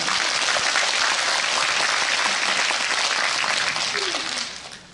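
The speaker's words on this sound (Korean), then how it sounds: "금영수 회장님을 비롯한 그 임원진에게 다시 한번 박수 좀 한번 쳐주시기 바랍니다" Audience applause for the chairman and executives at a Changdeok girls' high school alumni festival forum: dense, steady clapping fills the hall for about four seconds, then thins and fades at the end.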